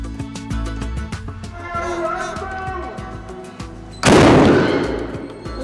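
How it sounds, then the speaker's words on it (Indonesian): A traditional bedil lodong cannon, fired in Sumedang to mark the breaking of the Ramadan fast, lets out a single loud, sudden blast that fades into a rumbling tail, after a stretch of quieter rhythmic sound. "Ledakan tadi bukanlah ledakan bom penebar rasa takut, melainkan tanda waktu berbuka puasa"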